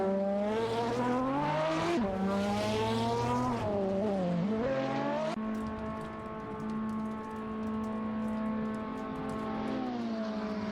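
Race cars, including a Donkervoort D8 GTO and a Zenvo, roar through a video game race. Engines whine up and down through gear shifts, then settle into a loud, steady high-pitched drone.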